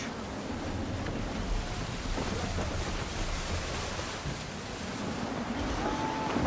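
Steady gusting wind and rushing sea surf around a sailing ship in Assassin's Creed III, a constant broad roar with slight swells in strength throughout, no voices.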